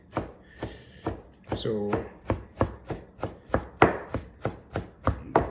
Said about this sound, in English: Some quick chop to it.